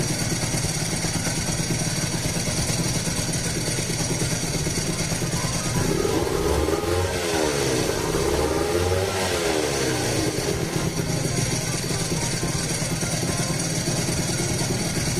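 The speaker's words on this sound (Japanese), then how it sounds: "次にエトスチャンバーの左側で、アイドリング回転の1500回転弱で音量は74デシベル。" A Honda NSR250R two-stroke motorcycle fitted with an ETHOS expansion chamber exhaust idles at just under 1500 rpm, a continuous close, buzzy rumble with a brief wavering swell in the middle.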